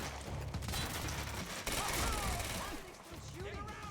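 Rapid machine gun bursts in the video game Quantum Break, loud dense rattling fire with booms and in-game mechanical noise while voices speak briefly over the action.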